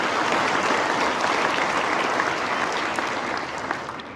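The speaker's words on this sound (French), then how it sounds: "Donc, une bonne main d'applaudissements à nos partenaires de catégorie diamant." Sustained applause from a large audience at a Quebec agricultural hall of fame awards ceremony, honouring diamond-level partners; dense, steady clapping throughout that eases slightly at the end.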